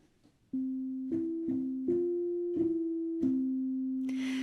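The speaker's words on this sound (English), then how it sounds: "Now we're switching to a sine wave." Smooth, pure sine-wave tones from a synthesizer oscillator playing a short sequence of sustained notes, soft and clean, ending with a burst of noise.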